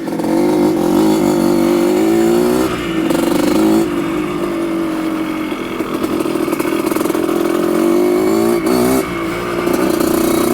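A 1975 Honda Elsinore CR250 vintage two-stroke motocross bike with drum brakes is ridden, its engine buzzing loud and steady for the whole stretch, rising and falling with throttle, brief dips between revs, no talking.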